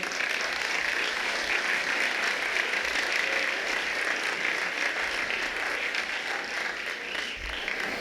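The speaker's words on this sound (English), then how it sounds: "If we can just give the students a round of applause for all of them." Sustained audience applause for students after a winter instrumental school concert, dense and even clapping that fills the room from start to finish with almost no talk.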